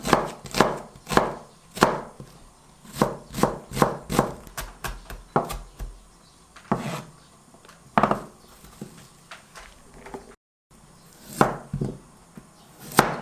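A knife julienning vegetables, carrot among them, on a cutting board, with quick bursts of crisp rhythmic chopping taps separated by short pauses, close and clear, no voices.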